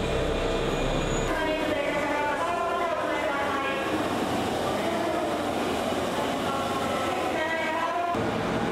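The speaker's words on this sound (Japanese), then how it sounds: "21時ごろ、ようやく臨時列車初便の中津駅が到着。" An extra Osaka Metro Midosuji Line subway train pulls into Nakatsu Station around 9 pm after a big concert, with a continuous rumble, squealing wheels and braking tones rising and falling inside the underground station.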